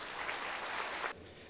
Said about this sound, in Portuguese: Então vamos receber com uma salva de palmas o Rodrigo Guidotti.